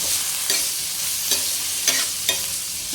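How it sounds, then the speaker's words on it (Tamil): Beetroot frying in oil is stirred in a pan, with a steady close sizzle and four sharp spoon scrapes against the metal, alone without talk. "நல்லா இந்த எண்ணெய் பீட்ரூட்டு எல்லாம் அந்த எண்ணெயில் நல்லா வதங்குற மாதிரி நல்லா பிரட்டி விட்டுருங்க"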